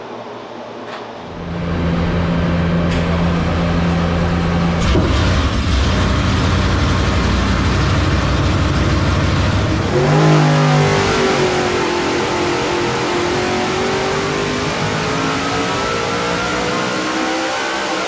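A supercharged Ford 7.3L Godzilla V8 idles loudly, then revs hard in sustained bursts, with a rising supercharger whine as the engine climbs and settles, close and alone.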